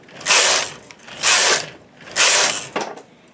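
Bulky-gauge knitting machine carriage pushed across the needle bed to knit rows of lace, three loud rasping sweeps about a second apart with a short clack at the end, close with no talking.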